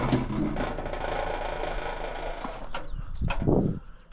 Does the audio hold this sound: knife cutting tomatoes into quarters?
no